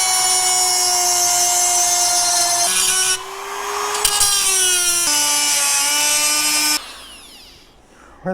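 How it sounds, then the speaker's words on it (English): A power tool cuts through fiberglass in a DC solar power station build, a loud, steady high-pitched whine that shifts pitch several times as the blade loads, then drops to a rougher grind near the end. "Next, we need to cut out this portion of the fiberglass."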